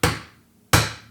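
Two sharp, close wooden-handled chisel taps about 0.7 seconds apart, each a crisp strike with a short decaying ring, chopping waste from an angled dovetail joint in a quiet workshop.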